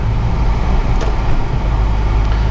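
A car drives at a GTI track event, heard from inside as a loud, steady low engine and road rumble with no distinct gear changes.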